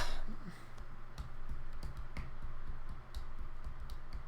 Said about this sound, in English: I'm guessing you're typing.